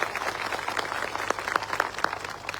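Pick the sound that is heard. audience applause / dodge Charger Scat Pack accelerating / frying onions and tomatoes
audience applause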